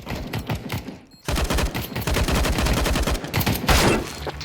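Dense bursts of automatic gunfire from the Counter-Strike map Inferno, rapid overlapping shots that drop out briefly near one second and then return loud and continuous to the end.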